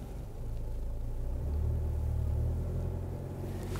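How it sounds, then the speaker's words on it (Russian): A car, either a Volkswagen Tiguan or a Toyota RAV4, drives over bumpy off-road ground, its engine a steady low rumble that swells mid-way under strain, close and continuous with no voices. "Мы едем как раз по таким кочкам."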